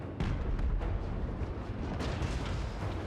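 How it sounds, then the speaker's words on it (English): Cannon artillery fire in a Total War: Warhammer 3 battle, a dense, continuous wash of booming shots and rumbling impacts, loud and layered throughout with no talking. "Cannons continuing trying to pick off units of opportunity."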